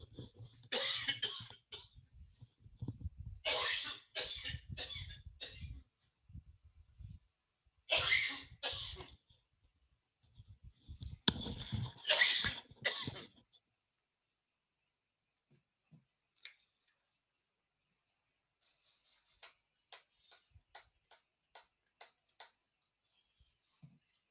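A person in a class or lecture room coughs in loud bursts, three or four times spread over several seconds, with light ticking or snapping sounds afterward.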